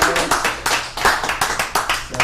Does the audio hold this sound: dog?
no